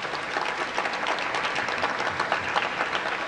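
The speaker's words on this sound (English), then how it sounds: "Give them a round of applause." Audience applause at a city event launching a children's books-from-birth program, a steady dense wash of many hands clapping throughout, moderately loud and without pauses.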